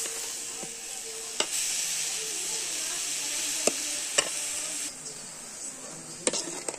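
Beetroot frying in oil in a pan, a steady hiss of sizzling with occasional sharp clicks of a utensil stirring, close and moderately quiet, without talk.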